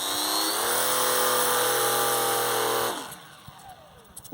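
Electric motor of a balsa Wellington model plane at full throttle, a loud rising whine with layered tones that holds and then cuts out abruptly near the end, leaving faint clicks and handling noise.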